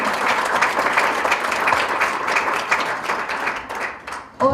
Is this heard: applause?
yes